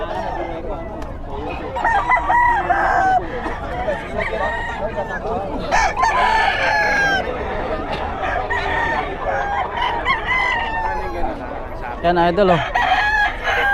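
Roosters crow repeatedly at a Philippine pit market selling cheap chickens and gamefowl, several loud calls overlapping with clucking and crowd noise while someone talks throughout.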